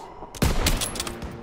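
Machine gun fire in the video game Call of Duty Modern Warfare, a loud sudden burst of rapid shots that breaks in after a quiet moment and carries on as a dense, ringing volley.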